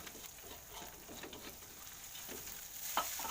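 Ground yellow spice paste fries with shallots and garlic in a pan, giving a steady close sizzle with scraping stirs throughout and no talk.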